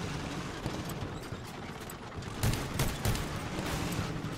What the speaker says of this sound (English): Enemy rocket barrage.